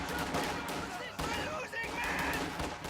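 Rifle fire crackles in a video game battle around a central objective, dense bursts of shots and impacts layered over constant battle noise, loud and close.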